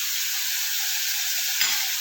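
Prawns sizzling in hot oil, a constant close hiss of frying with a brief louder crackle and stir near the end.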